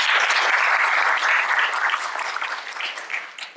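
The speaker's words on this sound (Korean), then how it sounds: "다시 한번 좋은 발표를 해주신 정은상 교장님께 박수 부탁드리겠습니다" Steady applause from an audience at a lecture forum, dense clapping that holds strong and then tapers off toward the end, with no voices over it.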